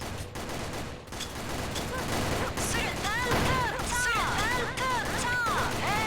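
Rapid bursts of gunfire in an online multiplayer shooter game, loud and continuous, with sharp ricochet-like whistles layered on top and players talking over the action.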